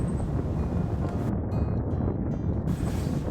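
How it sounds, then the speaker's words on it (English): Heavy crosswind buffets a rider on a 2022 Royal Enfield Himalayan at interstate speed, a dense, steady roar of wind against the microphone with a brief dip in the hiss midway. "there's a heavy crosswind that's beating me around"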